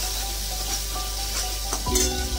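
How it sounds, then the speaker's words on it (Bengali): A spice mix is sautéed in a pan, with a continuous close sizzle and a few stirring scrapes, and a sudden burst of louder frying near the end; no one speaks. "আমি মশলা কষতে কষতে দিয়ে দিই,"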